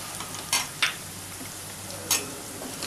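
Peas and fried potatoes cook in a pan for poha, a faint steady sizzle broken by a few sharp scrapes and clinks of a stirring utensil.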